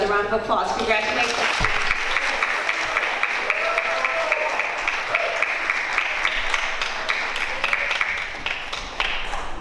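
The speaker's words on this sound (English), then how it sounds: "All right, another round of applause." Audience applause at a school board meeting honoring students, a dense steady wash of clapping hands lasting throughout, with a few voices and noises mixed in near the start.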